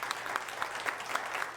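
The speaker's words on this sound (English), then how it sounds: "Along with the hand clapping" Quiet, steady hand-clapping applause from a modest group, a brisk even patter of claps that continues throughout without voices.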